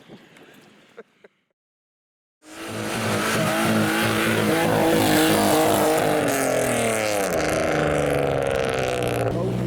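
A modified car revs hard and accelerates away from a car show in heavy rain, a loud, sustained engine roar with rising and falling pitch after a short quiet gap and faint voices at the start.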